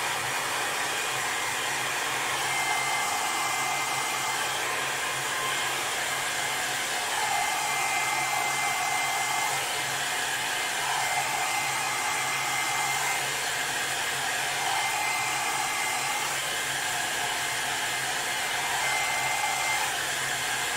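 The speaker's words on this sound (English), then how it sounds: "I'm just giving that a quick dry off." A hair dryer blows steadily and loudly on a freshly finished woodturning piece, a continuous even airflow roar with slight wavering in pitch, running alone without speech for about twenty seconds.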